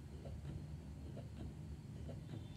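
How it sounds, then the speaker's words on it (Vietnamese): A Medela breast pump runs in suction mode at level 4, giving a quiet, steady low motor rumble with soft rhythmic pulses about every half second. It is faint and close, with no talking. "Đây là âm thanh của máy Medela khi mà hút nè các bạn."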